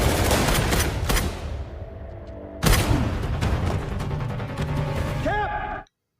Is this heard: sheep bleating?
no